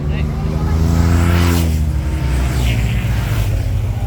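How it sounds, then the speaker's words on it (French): Loud engine roar as race motorcycles sweep past close by at the Tour de France, pitch rising and falling with the pass, with voices faintly under the noise. "quand t'as ce genre de moto là, toutes les motos là,"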